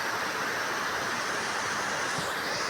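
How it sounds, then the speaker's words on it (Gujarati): Steady rushing water flowing along a canal beside a roadside temple, a broad continuous wash of noise with no voices. "આ બાજુ પાણી ચાલુ છે"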